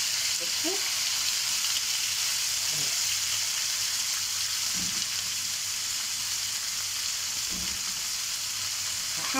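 Chicken strips frying in hot oil with garlic, onion and caramelised sugar for fajita: a steady, dense sizzle runs throughout, with a few soft stirring knocks and no talk.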